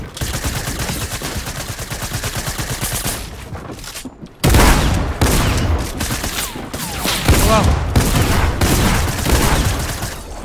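Rapid automatic gunfire in a Fortnite-style squads shooter, loud sustained bursts that cut out briefly and then return with sharper sniper cracks and heavy shots.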